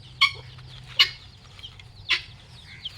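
A few short, sharp chicken clucks, three distinct calls spaced about a second apart over a faint low hum, fairly quiet, near sugarcane at a Pongal celebration.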